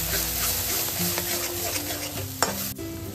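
Ground masala paste fries in hot oil for methi paratha, a dense close sizzle with soft stirring and one sharper clink of the utensil near the end, with no speech.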